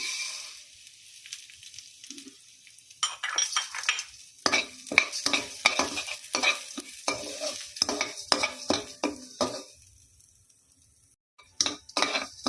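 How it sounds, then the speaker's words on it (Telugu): Urad dal fried in a spoonful of oil while a spoon stirs it, with a soft steady sizzle under repeated close scraping and clinking strokes against the pan. "మళ్ళీ ఒక స్పూన్ ఆయిల్ వేసుకుందామండి ఇందులో మినపప్పు వేసుకుని వేయించుకుందాము"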